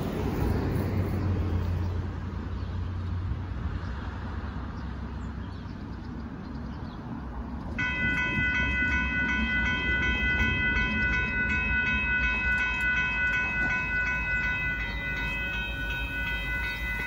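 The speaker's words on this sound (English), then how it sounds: "After this train goes by" A northbound Union Pacific mixed freight train rolls past at Dittmar Road in Austin, Texas, a steady loud rumble of cars joined midway by sustained high metallic wheel squeal, with no talking.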